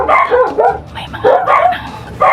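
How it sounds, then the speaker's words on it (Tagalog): Dogs bark loudly and close by in repeated bursts, a few yips and whimpering notes mixed between the barks, with no talk. "Tumatawa lang yung aso."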